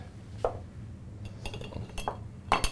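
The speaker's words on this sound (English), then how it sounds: "So I'm going to put in some nice clear ice cubes." Clear ice cubes clink into a cocktail glass in a few sharp, separate knocks, close and distinct against a quiet room.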